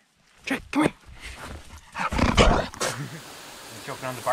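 A dog barks and growls in short bursts, with a person's voice mixed in, at moderate distance and varying loudness.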